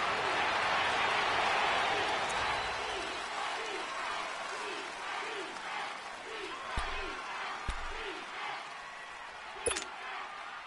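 A stadium crowd in a football video game, a broad steady roar of cheering that swells loudest at the start and then settles, with a few thuds in the later part.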